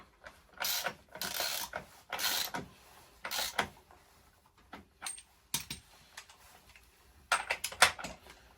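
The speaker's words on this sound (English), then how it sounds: "I'm now going to use the ratchet bar to tighten it up." A ratchet bar tightens a vehicle axle nut in a garage, giving close bursts of quick ratcheting clicks in short strokes separated by brief pauses.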